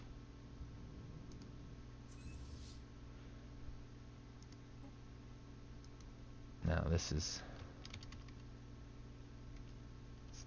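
Keys on a computer keyboard click quietly while someone talks during a Stellaris game session, with one short louder burst of tapping midway through.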